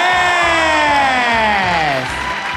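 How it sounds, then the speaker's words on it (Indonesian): An audience at a KDI singing contest cheers and shouts loudly, with one long drawn-out yell that slides downward in pitch over the roar of the crowd. "Saya mau dengar mana teriakannya kontes KDI"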